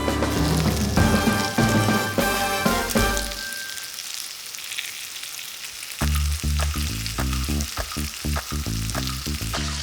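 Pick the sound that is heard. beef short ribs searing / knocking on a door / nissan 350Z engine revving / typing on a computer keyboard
beef short ribs searing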